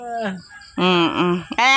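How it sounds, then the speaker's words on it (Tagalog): Loud, close clucking and squawking from a chicken, a few harsh calls in quick succession with a brief pause between them. "Kuya, anong ginagawa mo? Nagahuli ka manok."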